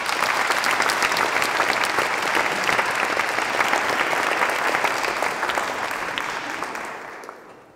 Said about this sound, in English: So a big round of applause for Tom Scott